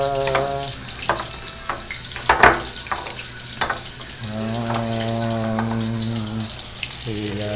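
Chicken thighs fry in hot oil with a steady broadband sizzle, broken by sharp pops and clatters of pieces being moved, while a low tonal hum runs underneath.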